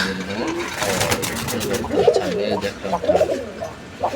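Male pigeon at a pigeon farm cooing in repeated throaty calls at close range, with someone talking over it and other birds faintly around.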